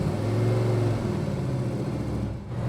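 A 1967 Chevrolet Chevelle SS with a fuel-injected 396 and a Tremec 5-speed accelerating, its engine heard from inside as a steady mid-pitched drone that rises slightly, with no talking.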